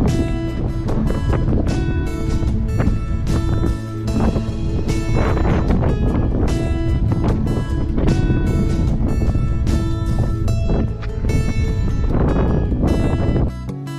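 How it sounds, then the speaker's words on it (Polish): Loud, constant wind buffeting the microphone in the mountains, roaring and gusting without a break. "wiatr mocny wieje, więc nie jest za ciepło"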